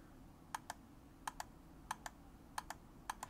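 Buttons on a new Lunar White Xbox One controller are pressed in close pairs of crisp clicks, five pairs evenly spaced and heard close up over a quiet background hiss.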